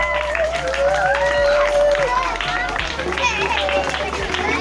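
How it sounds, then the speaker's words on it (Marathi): Dense clapping from a crowd fills the background while a voice talks over it, the applause holding steady and loud throughout. "टाळ्या वाजवा त्यांच्यासाठी जोरदार"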